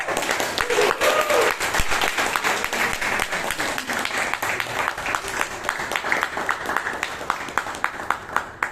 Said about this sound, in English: kindly give a huge round of applause to the president of Palgota